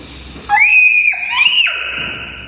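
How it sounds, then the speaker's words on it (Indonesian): A young child screams in a tantrum outdoors on a street, one long, loud, high-pitched shriek that wavers in pitch and breaks into a second rising cry before fading. "Nggak boleh teriak-teriak."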